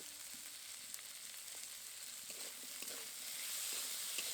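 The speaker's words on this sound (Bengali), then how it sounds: "এবার টমেটোটা একটু নরম হওয়া পর্যন্ত আবারও কিছুক্ষণ নাড়ব" Mixed vegetables and tomato with salt, turmeric and sugar frying in a pan for a drumstick flower dish, a faint, soft sizzle with light intermittent stirring taps, swelling slightly toward the end, nobody talking.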